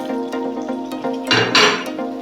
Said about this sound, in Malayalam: ഇനി നമ്മൾ വറുത്ത് വെച്ചിട്ടുള്ള ബീഫ് ഇതിലേക്ക് ചേർത്ത് കൊടുക്കാം